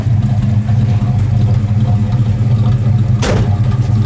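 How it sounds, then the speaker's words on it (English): A 1968 Plymouth Sport Satellite convertible's engine idles through glass pack mufflers with a steady low rumble, close by, while someone talks over it and a brief sharp noise cuts in near the end. "Those glass packs sound really nice. Good. It also idled down nice there"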